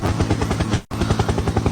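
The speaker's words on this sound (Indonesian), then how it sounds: "Helikopter." Helicopter passing overhead, loud rapid rotor thumping in a steady pulsing rhythm, broken by a brief cut partway through.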